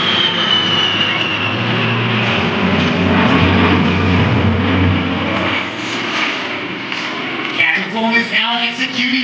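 An A-10 Thunderbolt II jet performs an aerobatic Cuban eight at the 2021 Greater Binghamton Airshow, a loud continuous engine roar and whine throughout, with a public-address voice talking over it.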